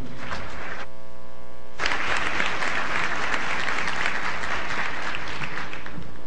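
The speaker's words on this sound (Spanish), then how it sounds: "Un aplauso, por favor." Audience applause at the closing ceremony of a national geography and environment convention in Guanajuato, a full crowd clapping loudly and steadily after a brief hum-filled pause, with a steady electrical mains hum underneath.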